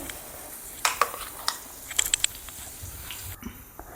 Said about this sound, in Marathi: आता हे काढून घेते मी या भांड्यामध्ये